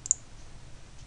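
A single sharp computer key click near the start, quiet and close, followed by faint room hiss while a Pong game is being set up in Game Maker.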